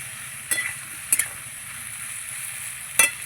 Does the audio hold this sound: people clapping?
no